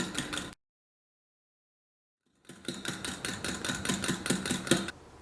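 An electric beater whisks milk to a froth for a cappuccino. Its rapid, rattling buzz runs for half a second, breaks off into silence, then starts again for a longer steady stretch, nearby and moderately loud.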